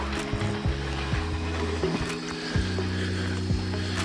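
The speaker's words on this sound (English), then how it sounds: "here, I gotta get this hose out of here" A hose is pulled out from a backyard hydrant beside a pond in winter, giving a steady ratcheting, mechanical clatter over a low, continuous hum that runs throughout at a close, moderate level.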